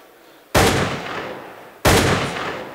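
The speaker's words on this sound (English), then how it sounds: "Now that's a gunshot." Two loud gunshot sound effects are played back in Pro Tools, each a sharp sudden blast followed by a long decaying tail, spaced about a second apart.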